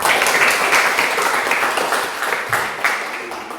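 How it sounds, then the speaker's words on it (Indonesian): Schoolchildren clap in a classroom after a lesson story, loud, close and somewhat uneven clapping in bursts that gradually thins out, with a few voices mixed in. "Beri tepuk tangan"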